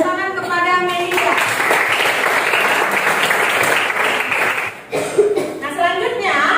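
A classroom group claps steadily for a student after her correct answer, a dense sustained round of applause with talk just before and after it.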